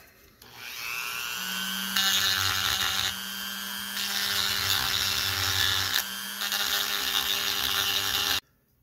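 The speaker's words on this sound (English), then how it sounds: "So that's really all the Dremel work that needs to be done now." A Dremel rotary tool whines steadily while radiusing the back edge of a CZ Scorpion Evo 3 bolt, its pitch shifting as it bites into the metal in several passes before cutting off abruptly.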